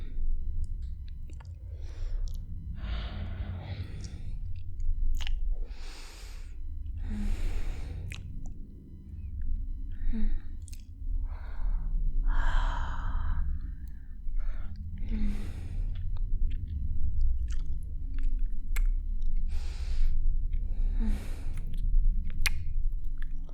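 Soft, wet kissing and mouth sounds recur close to the microphone in an intimate roleplay, separated by breathy pauses and gentle smacks with no speech.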